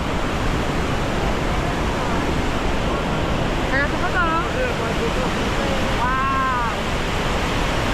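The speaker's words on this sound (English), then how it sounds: "now for the grand finale is a waterfall known as the Diablo, the Devil's waterfall" The Devil's waterfall, known as the Diablo, in Argentina gives off a continuous loud, dense roar of falling water that never lets up, while a voice briefly exclaims partway through.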